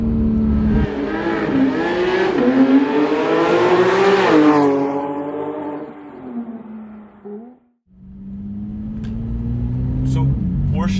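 Porsche 911 GT3 engine climbs through the revs on the road, a loud, rising howl that peaks, drops away briefly with a gear change, then pulls hard again.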